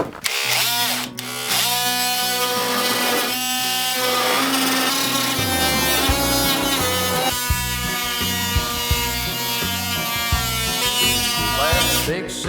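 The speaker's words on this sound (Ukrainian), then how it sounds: "Так, і давайте спробуємо насадку реноватор." A Revolt multitool with an oscillating renovator attachment runs loudly and close, a harsh high-pitched buzzing whine that starts abruptly, shifts in pitch partway through and keeps going without pause.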